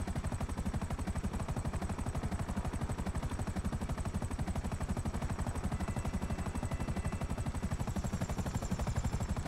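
A police helicopter in GTA V: a loud, steady rotor chop with fast, even thumping that carries unbroken from start to finish, with no voices.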